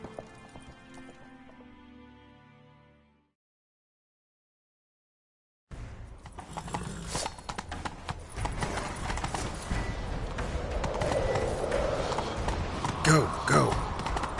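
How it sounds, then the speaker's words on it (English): Horses galloping in a chase in The Witcher 3, preceded by a fading musical passage and a gap of silence, then loud, close, rapid hoofbeats pounding continuously under shouted dialogue. "Grab a horse, we'll chase him down."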